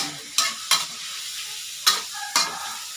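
Pork and Chinese kale stir-fried in a pan with chopped garlic, giving a steady sizzle broken by four sharp scraping strokes of the spatula, two close together early and two later, with no talking.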